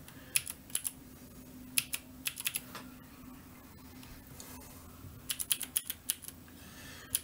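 Keys clack on a Keychron Q3 mechanical keyboard in quick irregular clusters of presses, close and crisp, with short pauses between bursts of typing and no talking.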